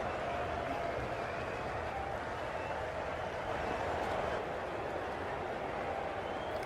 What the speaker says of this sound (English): Crowds definitely are making some noise for him.